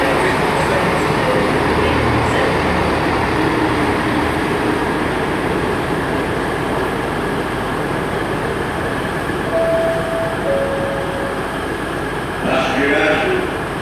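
Northern class 158 diesel unit 158850 pulling out of Nottingham station on a service to Leeds, a steady low engine rumble and rail noise throughout, with a brief squeal late on, under ongoing station ambience.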